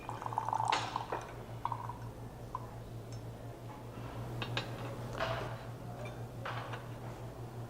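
Hot water poured into a pu'er teapot to warm it, heard as soft intermittent splashes, drips and clinks over a constant low hum, close by and fairly quiet, with no talking.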